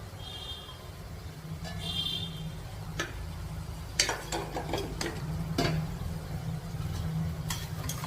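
Bitter gourd pieces frying in a pan, with a steady low sizzle under scattered sharp scraping and clinking stirs of a utensil against the pan, some in quick bursts.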